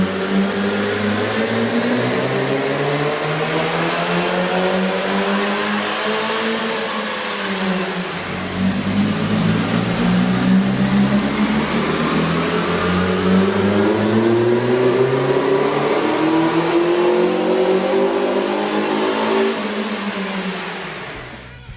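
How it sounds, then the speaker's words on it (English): A Honda Civic fitted with a K&N cold air intake revs on a dyno, the loud engine note climbing steadily, dropping back briefly, then rising again in a long sweeping pull before easing off. "we ran the vehicle on the dyno to test the sound comparison versus the stock intake"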